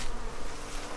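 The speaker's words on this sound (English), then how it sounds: "I've got bees on the attack here" Bees swarm around an open winter hive during a summer brood check, giving a steady, close, dense buzzing drone that continues throughout with no talking.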